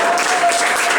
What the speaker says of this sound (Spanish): Den un aplauso a Yahshua por eso